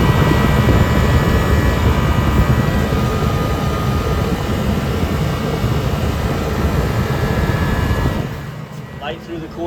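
Walk-in freezer coil fans roar with a loud, steady broadband rush of blown air that continues for about eight seconds before cutting down to a quieter hum.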